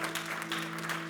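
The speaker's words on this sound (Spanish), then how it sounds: "Dele ese aplauso fuerte a Cristo." A church congregation claps together in a brief, steady burst of applause heard at moderate distance, with a low organ-like hum sustained underneath.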